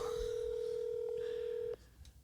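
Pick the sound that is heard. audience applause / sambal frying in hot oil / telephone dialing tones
telephone dialing tones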